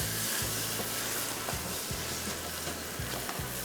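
Minced meat (qeema) frying with tomatoes in a pan for anda qeema, giving a steady broad sizzle with soft low thumps of stirring every second or so, fairly close and continuous, with no voices.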